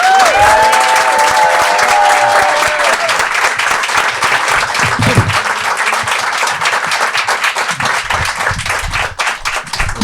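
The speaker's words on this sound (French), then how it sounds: "faites un tonnerre d'applaudissements pour Manu Payet" Loud, dense audience applause for comedian Manu Payet, sustained for the whole stretch with scattered cheers and crowd noise, opening over a brief voice before the clapping fills everything.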